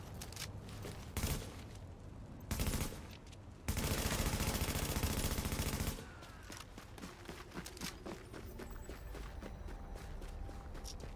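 Video game gunfire from Tom Clancy's The Division: loud bursts of automatic fire, a couple of short volleys then a sustained two-second stream, followed by scattered distant shots and clatter.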